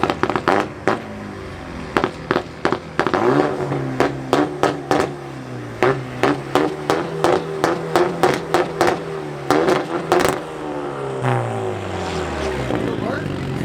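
Chevrolet SS muscle car revving at an exhaust competition, a long string of sharp throttle blips with crackles between them, loud and close, then a sustained rev that falls away; a crowd murmurs faintly underneath.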